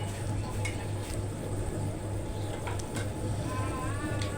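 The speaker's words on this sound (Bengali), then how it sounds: "আবার আমি নেড়ে চেড়ে এটা আমি কিছুক্ষণের জন্য আবার ঢাকনা দিয়ে ঢেকে রেখে দেব।" Chicken curry being stirred in a pot over the heat, with a soft steady sizzle, faint scraping and light clinks of utensil and lid against metal, under a low continuous hum.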